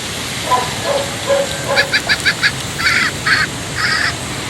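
A banakon bird calls repeatedly outdoors, first low single notes, then a quick series of short bright calls followed by several longer harsh squawks, moderately near.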